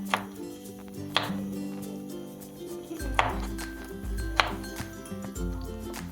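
A knife chopping tomatoes into small pieces on a cutting board, sparse sharp taps spaced about a second apart, close and fairly faint over a low hum, with no voices.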